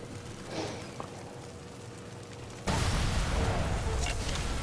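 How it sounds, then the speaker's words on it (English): Trucks exploding in Sniper Elite 3, a faint distant thud early on, then a sudden loud burst of roaring blast noise that sustains to the end. "close enough to hear the explosions when these trucks go off"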